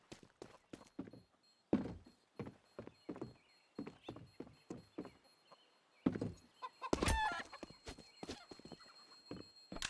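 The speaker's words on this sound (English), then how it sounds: "Malkis deciding to have some KFC as he takes that chicken out of commission" A chicken clucks in a Counter-Strike match, heard among sharp in-game clicks, thuds and footsteps in quick, uneven bursts.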